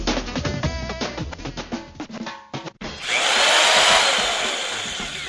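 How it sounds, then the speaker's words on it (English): A power drill whirs loudly and steadily for a few seconds, starting abruptly after a burst of music and holding a high, continuous mechanical whine. "Wait, is that a drill?"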